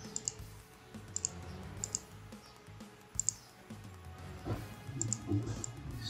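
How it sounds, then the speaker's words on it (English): Sharp mouse clicks on a computer while saving a file in a crypto-mining node setup, a handful of separate close taps spaced irregularly over a low hum. "And now we will click on save it."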